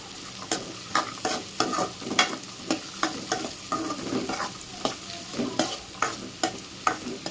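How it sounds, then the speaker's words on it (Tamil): Vegetables sautéing with salt in a pan for veg semiya biryani, a steady soft sizzle broken by regular scraping strokes of a spoon stirring through the mix, close and alone with no voices. "சால்ட்டு போட்டு நல்லா வதக்கிடணும்"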